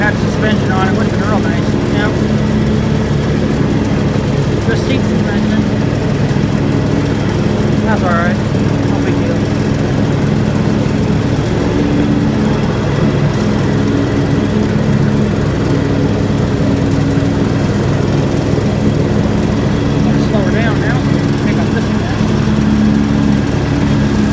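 A John Deere X724 four-wheel-steer lawn tractor drones steadily and loudly throughout, with its mower deck blowing cut grass into a windrow, the engine hum constant without pauses.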